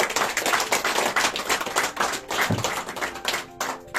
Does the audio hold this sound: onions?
no